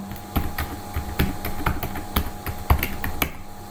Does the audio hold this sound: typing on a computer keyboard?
yes